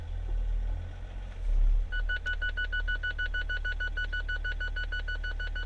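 Reversing parking sensors on a BMW E46 330D beep in a steady, rapid repeating pattern from about two seconds in, over a low idling diesel engine rumble inside the car.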